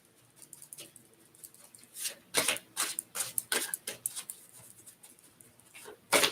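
Tarot or oracle cards being shuffled by hand for a reading make a series of soft riffling, flicking bursts, irregular and close, with quiet gaps between and a louder flurry at the end.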